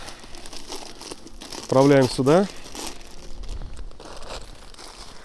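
A torn bag of lightly moistened summer fishing groundbait for crucian carp and carp crinkles and crackles in a short loud burst close by, with someone talking over it.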